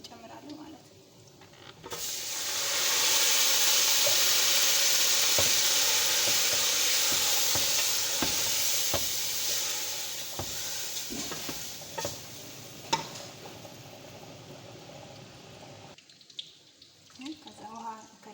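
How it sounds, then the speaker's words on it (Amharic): Rice is added to a hot pot and stirred, a loud steady sizzle that swells and then settles, with a spoon knocking and scraping against the pot and a person talking near the end. "ብንሆን አሁን ምን አደርጋለሁ? ሩዝ እንጨምራለሁ ማለት ነው።"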